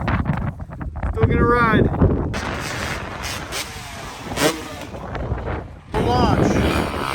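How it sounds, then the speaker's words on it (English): Strong desert wind at the Ocotillo Wells riding area buffets the microphone in heavy rushing gusts, with a person talking briefly between them. "A little windy on the scene today."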